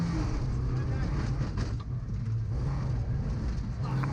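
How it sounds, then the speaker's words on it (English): Mazda MX-5 rally car on a circuit rally at Cadwell Park, heard from on board: a loud, steady engine drone with road and wind roar filling the whole cabin, no letup across the stretch. "Let's ride on board with Paul Sheard and Bruce Lindsay in their Mazda MX-5."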